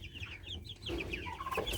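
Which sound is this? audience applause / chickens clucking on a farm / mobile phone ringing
chickens clucking on a farm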